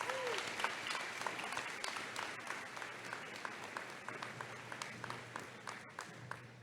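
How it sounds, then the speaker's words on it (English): Audience applause at a spring college commencement ceremony at Penn State Schuylkill, a steady sustained roar of many hands clapping in a large hall, continuing evenly throughout. "Can we have a round of applause for all of them,"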